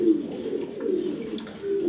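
A male silver Giribaz pigeon coos close by, a low soft burbling call running steadily through the moment, with no talk over it.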